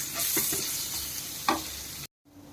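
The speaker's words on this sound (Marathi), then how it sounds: "आता आपल्याला कांदा चांगला परतून घ्यायचा आहे।" Finely chopped large onion sautéing in a pan for a bitter gourd dish: a dense, close sizzle broken by a few sharp spoon scrapes, then it cuts off abruptly into near silence.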